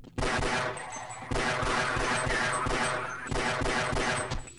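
Rapid bursts of gunfire in the Half-Life video game, three loud sustained volleys of shots separated by brief gaps, with no talking.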